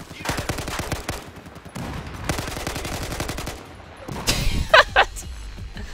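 Rapid bursts of AK5C assault rifle fire in Battlefield 4, sharp repeated cracks in two long strings, then a few louder separate impacts near the end, with no voices.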